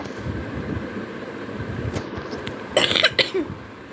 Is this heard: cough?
yes